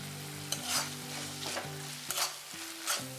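Gram flour being stirred into a drumstick zunka in a pan over low heat, with soft repeated scraping strokes and a light sizzle under a steady tonal background hum, no talking.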